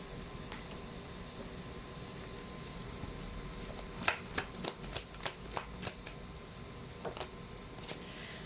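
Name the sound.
tarot cards being handled while pulling a card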